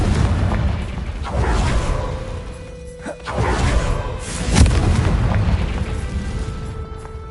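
A Confringo blasting curse bursts in Hogwarts Legacy, deep booming explosions rumbling loudly, with a couple of heavy blasts a few seconds apart over a sustained low roar.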